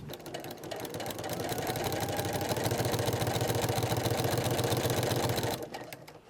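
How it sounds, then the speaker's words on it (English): A sewing machine runs steadily, stitching a quarter-inch seam through quilted panel fabric for a tote bag, its fast rhythmic needle chatter close and continuous for about five seconds before stopping abruptly. "now we're going to stitch a 1/4 inch seam down this line."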